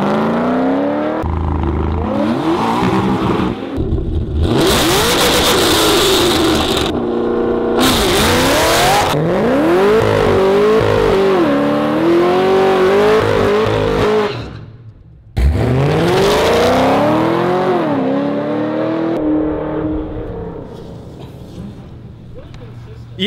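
A Cadillac CTS-V launches hard down a drag strip, its engine roaring loud and close through several rising gear pulls with a brief lift partway through, then surging again, while voices talk over it.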